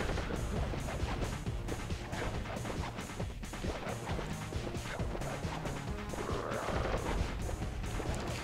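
Enemy gunfire in the video game Sly Cooper: a dense, loud, steady run of crashing impacts and shots layered over game music, with no talking.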